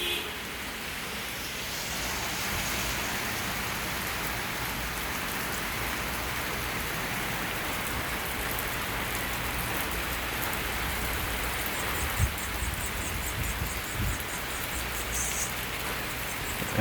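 Heavy rain pours steadily outdoors in Hilo, Hawaii, during the rainy season, a dense, continuous hiss that holds at the same level for the whole stretch with no talking.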